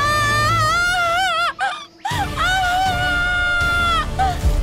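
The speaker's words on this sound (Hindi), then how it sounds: "अवनी के मुंह से इतनी जोर से चीख निकली कि उससे पूरा जंगल कांप उठा।" A girl's loud, piercing scream in a forest as she is stabbed with a dagger, a shrill wavering cry that breaks off briefly, then resumes and is held at high volume.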